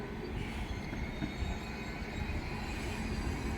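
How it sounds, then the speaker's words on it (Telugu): A train stands at a small village railway station, its steady low rumble carrying on without a break. "ఈ ట్రైను ఇక్కడ వచ్చి ఆగింది"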